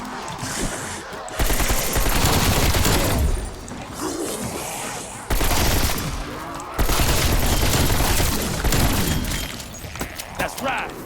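Bursts of automatic gunfire in Call of Duty: Cold War Zombies come in long, loud rapid volleys with short pauses between them, mixed with impacts and game sounds while someone talks over the shooting.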